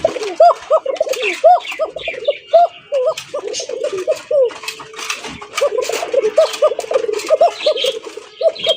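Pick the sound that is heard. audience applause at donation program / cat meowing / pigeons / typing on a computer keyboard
pigeons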